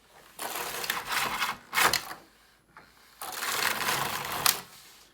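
Knitting machine carriage drawn across the beds with thick wool, working rows in two long rattling, clattering sweeps separated by a short pause, close and fairly loud, with no voices.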